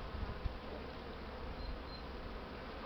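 Honeybees buzz in a faint, steady drone as they fly on a winter cleansing flight in February, with the hum continuing evenly throughout.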